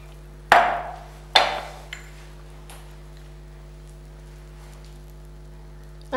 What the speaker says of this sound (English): just chop up any chocolate, milk chocolate, dark chocolate, whatever chocolate you want, and just sprinkle it on